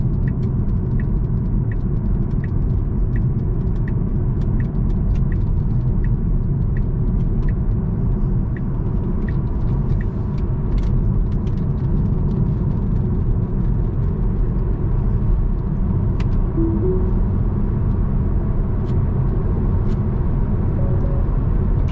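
Inside a Tesla on ordinary UK roads, a low continuous road rumble and tyre hum carries steadily throughout, with faint ticking from the cabin and no engine note.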